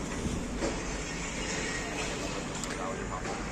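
A Rome metro train at Furio Camillo station on the orange Line A gives a steady, loud rumble with faint rattles and clatter, heard under a voice.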